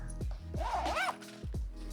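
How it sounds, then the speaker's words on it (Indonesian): The zipper on the inner divider layer of an XD Design anti-theft bag is pulled open or closed in one brief rasping run. The sound is close and moderately quiet, framed by a few soft handling knocks. "layer pemisahnya ini dia pakai resleting atau zipper"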